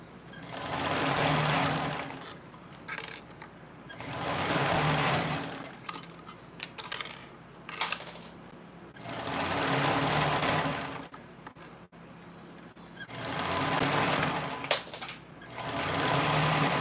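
A sewing machine stitches in four long steady runs of whirring needle strokes, separated by short pauses with small clicks and handling noises, close and loud.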